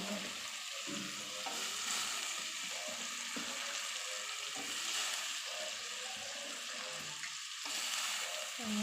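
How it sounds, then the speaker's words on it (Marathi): Finely chopped tomato hisses and sizzles steadily in a hot pan, a continuous broadband fry with faint stirring scrapes, moderately close and alone with no talk. "बारीक चिरून घेतलेला टोमॅटो टाकून घेत आहे."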